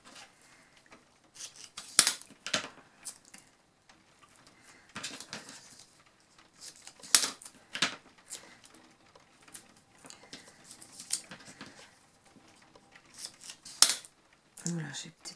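Scissors snip through paper strips in short bursts, the crisp cuts spaced irregularly across a quiet room and close by, with a soft low rustle toward the end.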